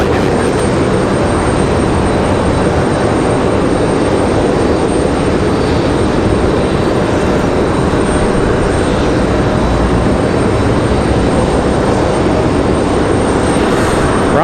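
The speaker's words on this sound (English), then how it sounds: "a Breeze A220 making their way out as well" A Breeze Airways Airbus A220 jet taxis out for departure at Raleigh-Durham International, giving a continuous, even engine rumble and hiss at moderate distance with no talk over it.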